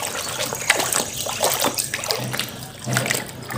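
Water trickles and splashes while toy vehicles such as a tractor and bulldozer are washed, an uneven running dribble with small splatters close by, without talking.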